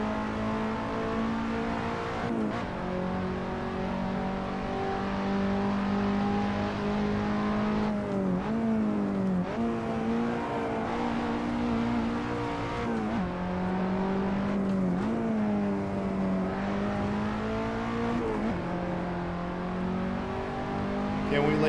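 Simulated KTM X-Bow race car engine at the Red Bull Ring in a sim racing game, loud and continuous, with revs rising and dropping repeatedly through gear changes and corners for the whole stretch.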